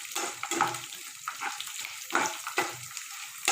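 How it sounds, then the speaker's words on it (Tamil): Garlic sautés in a pan, giving a moderate sizzle with repeated bursts of stirring and scraping at an uneven rhythm. "நெக்ஸ்ட்டு பூண்டு, நல்லா வதக்கிடுங்க"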